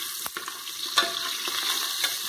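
Feijoada ingredients being stirred in a frying pan, giving a steady close sizzle with soft scraping stirs and a few sharper clicks of the utensil, no talking.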